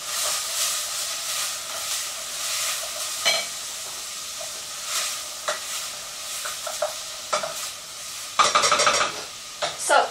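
Onions softening in a pan for homemade brown sauce, giving a steady broadband sizzle with scattered stirring scrapes and clinks, growing louder near the end, with no talking.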